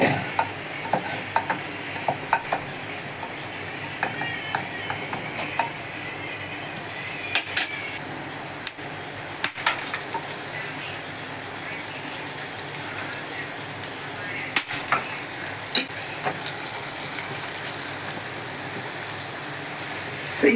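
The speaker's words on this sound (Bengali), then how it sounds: "তেজপাতা দিয়ে দিয়েছি, শুকনো লঙ্কা দিয়ে দিলাম।" Bay leaves and dried red chillies sizzle in hot oil in a cooking pot, a steady crackling hiss that runs the whole time with occasional sharper pops, close and moderately loud with no one talking.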